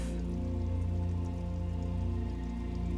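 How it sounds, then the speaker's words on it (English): Steady rain falls on concrete pavement as a continuous, even patter of drops, mixed with a low constant hum underneath, close and unbroken for the whole stretch with no voices. "You notice as the rain hits the concrete pavement, how it bounces off."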